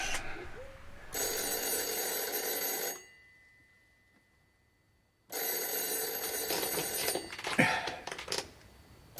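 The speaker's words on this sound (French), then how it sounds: "Dis donc, c'est le téléphone." An old telephone bell in a French Tintin radio drama, Le Temple du Soleil, rings in two long, loud bursts separated by a few seconds of near silence, with no talk over it.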